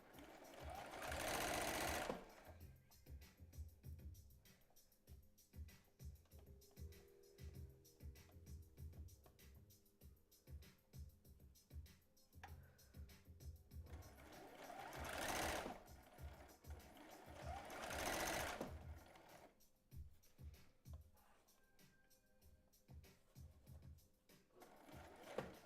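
A sewing machine runs a straight stitch at about 2.4 stitch length on an old bra being upcycled, whirring in steady bursts with short pauses and louder surges near the start and middle.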